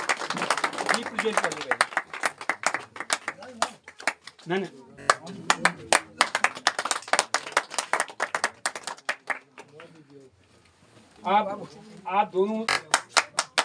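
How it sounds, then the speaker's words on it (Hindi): An audience at a village Holi celebration in the Uttarakhand hills claps in bursts of dense, close applause, broken by short pauses where someone speaks over a microphone. "तालियां बजाओ भैया। तालियां बजाओ।"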